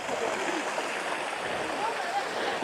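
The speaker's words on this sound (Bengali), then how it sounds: "এখন তো জলের সেই স্রোত নেই, হালকা একটা ধারা পড়ছে।" A light trickle of water falling in a forest stream in the Jungle Mahal area, far below its monsoon flow, as a steady soft wash of broadband rushing with no clear breaks.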